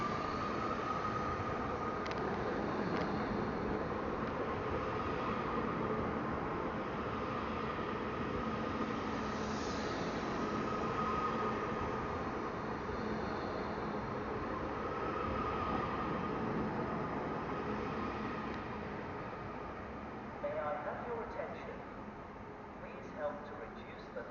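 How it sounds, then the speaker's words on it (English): A steady rumbling roar of a train departing Manchester Airport station for Blackpool North, running continuously, fading slightly near the end, with a voice faintly audible in the mix. "Train now departing is a 3331 going to Blackpool North."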